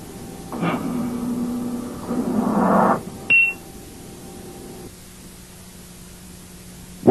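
A ventilator running its power-on alarm self-test, sounding several overlapping tones and beeps for about three seconds over steady hiss, then a short chirp and a fading lower tone.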